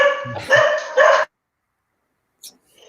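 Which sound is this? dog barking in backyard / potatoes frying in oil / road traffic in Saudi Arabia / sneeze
dog barking in backyard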